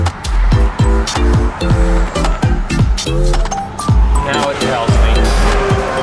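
Heavy road traffic flows past a vehicle cockpit in a steady, close rumble of engines and tires, with a voice talking over it.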